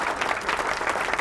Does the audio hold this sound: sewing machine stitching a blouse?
no